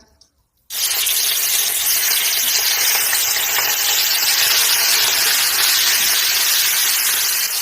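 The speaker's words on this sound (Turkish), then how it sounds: "Önce kıymamı kavuracağım." Minced meat frying in six tablespoons of oil in a pan gives a loud, steady sizzle that starts abruptly after a short quiet moment and keeps going without a break, close up, with no talking.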